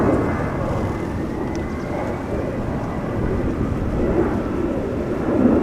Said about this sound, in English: Right, the Delta A330 is on the move, coming home to Sarah, to Boston, Massachusetts.